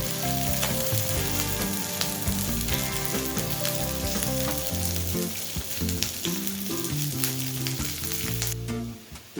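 Whole cashews, garlic cloves and chopped ginger fry briefly in a pan for a pepper chicken curry, a dense, constant close-up sizzle with light crackles, over background music.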